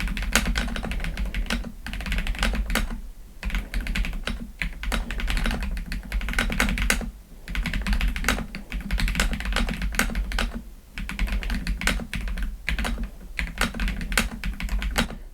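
Typing on a Redragon Antonium K745 PRO mechanical keyboard, close and clear, with rapid bursts of key clicks broken by brief pauses, steady throughout and with no talking.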